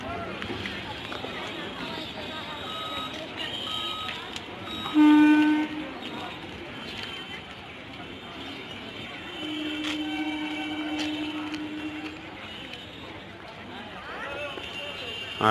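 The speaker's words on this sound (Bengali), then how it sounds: "ডাউন ট্রেন একদম টাইমে চলে যাচ্ছে বেরিয়ে যাচ্ছে বসিয়া স্টেশন ছেড়ে" A Down Hasnabad–Sealdah local train leaves Basia station, its horn sounding in a short toot and then a longer blast over a busy rumble, with a person talking throughout.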